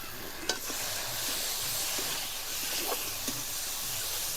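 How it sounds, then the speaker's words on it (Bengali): Spice paste sizzles in hot oil in a pan while a katla fish curry with cauliflower and potato is cooked, a faint, steady hiss broken by a few soft stirring clicks. "মশলাটা ভাজা হবে যতক্ষণ না মশলা থেকে তেল ছাড়বে"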